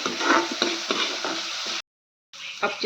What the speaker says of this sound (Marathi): हे पण व्हेजिटेबल्स आपल्याला 4 ते 5 मिनिटं व्यवस्थित असे गॅसवर फ्राय होऊ द्यायचे आहे